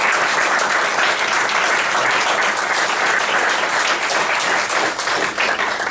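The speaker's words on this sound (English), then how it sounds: "give you a round of applause?" An audience gives sustained applause for KSCA officers standing at a banquet, loud, dense clapping filling the room evenly throughout.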